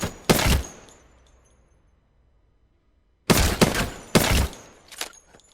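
Hip-fire gunshots in Apex Legends: a loud burst of rapid shots, a pause of near silence, then two more sharp bursts close together, with no talking.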